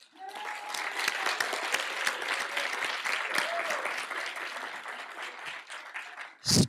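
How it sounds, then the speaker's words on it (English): An audience at a city's State of the City address applauds with dense, steady clapping that holds at an even level for several seconds, and a few voices cheer within it. "please give them a round of applause"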